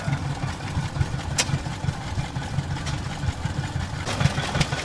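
An antique tractor engine idles steadily at an outdoor gas engine show, a low, uneven chugging running continuously up close, with a few brief higher clatters over it and no talking.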